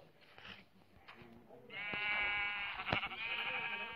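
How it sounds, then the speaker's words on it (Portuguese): Sheep bleating in the Minecraft video game, a sustained, loud bleat lasting about two seconds, with fainter ambient game sounds before it. "Tem uma ovelha ali porque tá fazendo barulho de."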